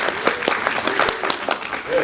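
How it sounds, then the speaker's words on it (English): Brief applause from a room of listeners at a talk, scattered hand claps for a short stretch with voices mixed in. "Give her a round of applause."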